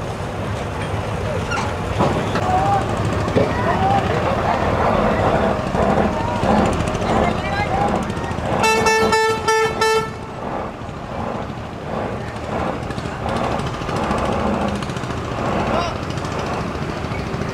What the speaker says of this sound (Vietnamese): chạy máy Mitsubishi 12R